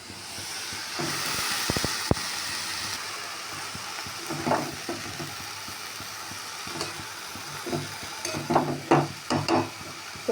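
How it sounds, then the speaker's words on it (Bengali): A little water hits vegetables frying in a pan, raising a burst of hiss and sizzle followed by intermittent stirring scrapes and sputters, close by with a low background hum. "এবার এর মধ্যে আমি একটুখানি অল্প করে জল দিয়ে"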